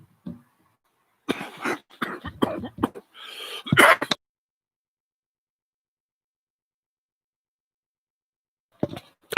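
Several harsh coughs and throat-clearing bursts come in a cluster up close, then silence, then another brief cough at the end.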